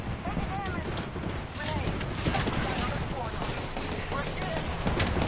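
Rapid bursts of gunfire in a battle-royale style video game, continuous and dense throughout, mixed with other game effects while players talk over it.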